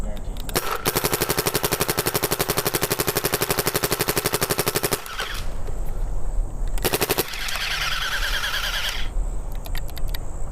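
Rapid bursts from a Planet Eclipse Ego 10 paintball marker firing on a field: a long fast stream of sharp pops, then a pause and a shorter second volley, loud and close with no talk.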